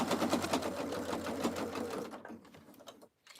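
A sewing machine stitches a seam on a fabric soup bowl cozy with a rapid, even mechanical chatter that runs close for about two seconds, then slows and stops.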